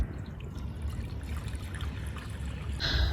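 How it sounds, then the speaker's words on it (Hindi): Fresh water runs steadily into a container at home, a continuous low trickle and splash without pauses, moderately faint, with no voices over it. "अबे हम भर लेते हैं नया पानी।"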